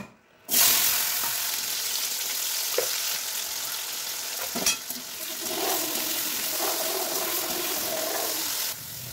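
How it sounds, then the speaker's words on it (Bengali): Potatoes hit hot oil and fry with a loud, continuous close sizzle for several seconds, with occasional utensil taps and stirring scrapes, then cut off abruptly. "এবার আলুগুলো ভাজা নেবো।"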